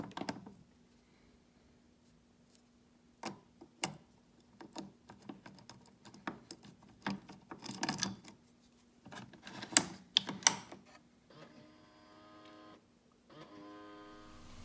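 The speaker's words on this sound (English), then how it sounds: "This picks a tubular lock." A tubular lock pick works the ignition lock of a Harley Davidson motorcycle, giving scattered sharp metallic clicks and ticks close up over a faint steady hum, with a short run of rapid ratcheting near the end.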